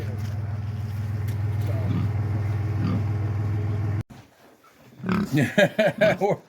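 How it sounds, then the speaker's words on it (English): A steady low mechanical hum runs for several seconds, then cuts out, and a pig's rhythmic grunts and snorts follow close by. "Here's the pig. It's so big."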